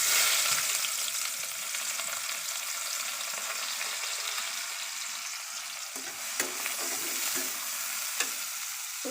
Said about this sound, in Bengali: এখন তেলে পেঁয়াজ ঢেলে নিচ্ছি।